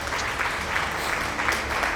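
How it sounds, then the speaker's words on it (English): Steady applause from a crowd, a dense continuous clatter of clapping hands without pause, fairly loud and close. "So many applause, and it's all worth it."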